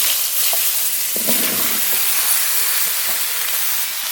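Bottle gourd drops into hot oil left from frying fish and sizzles loudly and continuously, with a few clattering stirs in between and no talking.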